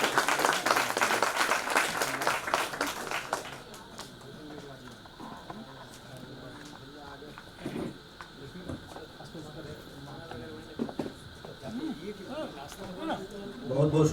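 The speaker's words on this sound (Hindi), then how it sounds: "तालियां होनी ही चाहिए" Audience applause at a Hindi poetry recitation during a literary session of the Magadh Mahotsav at Patna Museum, a burst of clapping in the opening seconds that fades into quieter room sound and scattered talk.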